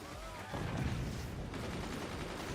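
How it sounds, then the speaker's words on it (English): Dense game gunfire from the Forts RTS, a rapid machine-gun fusillade with booming mortar-like hits, starting after a short quieter lead-in and staying loud and continuous to the end, with no talk over it. "The machine gunners dropping down from above clean out most of Pool Boy's gunners"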